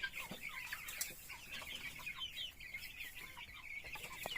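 Young darag native chickens, about a month old, cluck and peep together in a brooder, a busy continuous chorus of soft chirps and clucks at close range with no talk.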